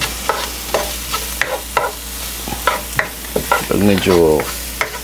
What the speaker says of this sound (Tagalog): antayin lang natin pagmantikain yung onion